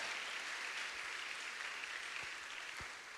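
A church congregation applauds, a dense, steady wash of many hands clapping that fills the room evenly, with no voices standing out.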